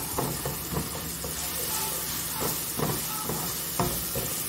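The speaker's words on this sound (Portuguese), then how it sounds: "Vamos refogar esse alho." Garlic sautés in a hot pan, giving a steady, close sizzle and hiss throughout with occasional light stirring clicks.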